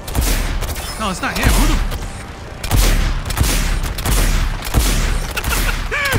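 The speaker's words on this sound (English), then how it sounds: "Who the fuck is shooting that big ass laser?" Big laser weapon blasts from a behemoth enemy in the Suicide Squad: Kill the Justice League game, heavy booming bursts recurring over the whole stretch under chaotic battle noise while someone talks.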